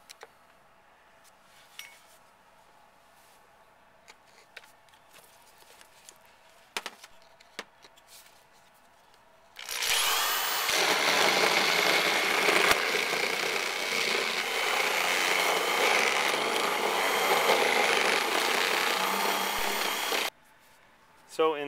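After quiet shuffling and taps, a power drill bursts in loud and close, drilling holes in a house's exterior wall, whirring steadily for about ten seconds before cutting off abruptly.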